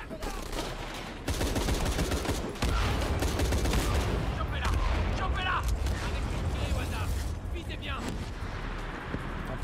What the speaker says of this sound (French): On essuie des tirs